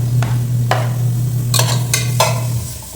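Sliced onions, about one and a half, dropped into a hot pan and stirred, giving a few scraping strokes and bursts of crackle over a steady low hum, close and fairly loud.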